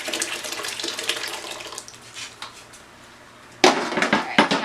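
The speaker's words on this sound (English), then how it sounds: "We are going to pour this through a cloth-lined colander." Curds and whey for homemade cottage cheese being poured through a cloth-lined colander, a soft trickle at first, then a sudden louder splashing gush near the end.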